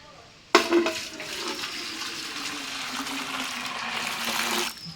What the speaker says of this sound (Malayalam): നമുക്ക് ഇതിലേക്ക് തിളച്ച വെള്ളം ഒഴിച്ചു കൊടുക്കാം